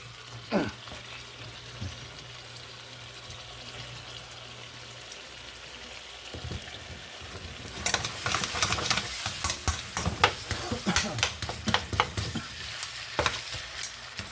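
Ground beef frying in a pan and breaking apart as it is flipped and scraped, a quiet start giving way to a loud, close sizzle with sharp spatula scrapes and clatters.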